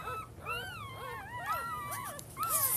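Several tiny newborn puppies whimper and squeal in overlapping, rising and falling cries close by, separated from their mother, with no talking.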